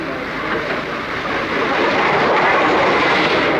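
Steam-era express train, the North Britain, running into York station in 1953, a steady rolling rumble that swells and grows louder as it draws near, with no voices over it.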